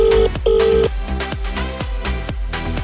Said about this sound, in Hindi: मिलाते हैं पहले फोन